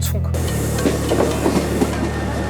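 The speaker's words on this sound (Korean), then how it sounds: "지하철이라든가 기차가 이렇게 갈 때 그때 이제 막 이렇게 왱왱왱왱 거리면서 가는 소리가 한 90데시벨이라고 볼 수가 있고요" A subway or train passes with a steady low rumble and rolling rail noise, loud and continuous throughout, with no voices over it.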